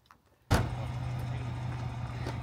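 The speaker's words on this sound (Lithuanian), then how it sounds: "Panašu, kad užsikūrė ir automobilis." A car engine catches abruptly after a near-silent moment and settles into a steady low idle hum, close and continuous.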